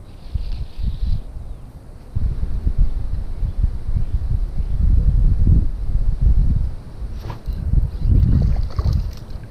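Wind gusting straight at a fishing spot on a creek, steady low rumbling buffeting on the microphone that swells and eases over several seconds, with no talk.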